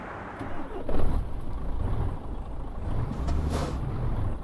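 Kenworth K100 truck in Euro Truck Simulator 2, its engine giving a low, rumbling idle with a short swell near the start and a brief hiss later, steady and close with no voices.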